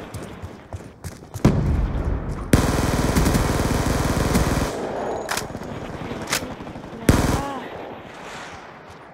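Gunfire in Call of Duty: Black Ops 2, with bursts of automatic fire, sharp single shots and loud hits spread over a busy in-game background, then quieter stretches between bursts.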